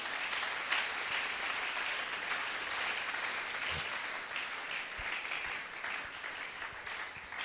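A church congregation at a French-language sermon applauds steadily and loudly throughout, a dense continuous clapping with occasional louder claps standing out.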